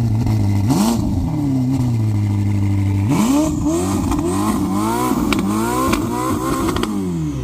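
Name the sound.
SF90 supercar with Novitec exhaust revving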